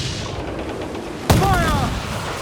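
Ship cannons firing during a naval battle in Assassin's Creed IV Black Flag, one sharp, loud boom partway through over steady battle noise, followed by a voice.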